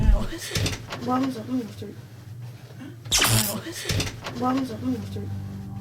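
An old door at Jamaica Inn opens, with its latch clicking and the handle springing back up: two distinct knocking clunks a few seconds apart, close and fairly loud, with people talking quietly around them.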